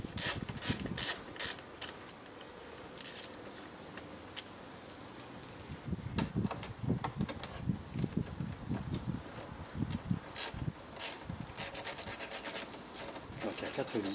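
A ratchet works loose the fasteners while a car's condenser is removed, giving rapid clicking and rubbing bursts close by, with pauses between runs of turning and no talking.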